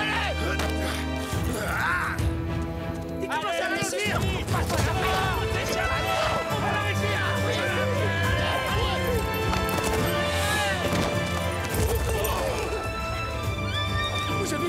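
Horse hooves gallop fast and close in an animated Zorro series, with neighing and a crash amid the hoofbeats while voices speak over the action.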